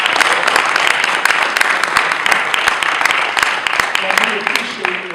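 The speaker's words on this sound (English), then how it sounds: "Let's give these brothers another round of applause." A lecture audience gives a loud, dense round of applause, many hands clapping steadily and close together with sharp individual claps standing out, and some talk rising beneath it toward the end.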